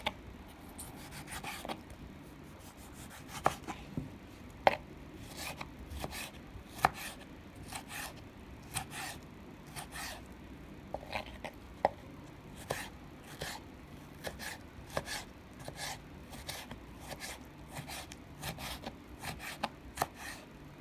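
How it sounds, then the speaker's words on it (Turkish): Quiet, close knife strikes through tomatoes on a board tap out in irregular clusters, with faint scraping and rubbing between cuts and no voices. "domateslerimizi doğramaya başlayalım."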